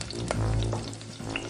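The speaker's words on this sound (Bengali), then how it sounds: "তোমার তালের বড়া ভাজা দেখছি" Palm fruit fritters fry in a kitchen within an animated horror cartoon, producing a short, soft bubbling sizzle of oil heard on its own without talk.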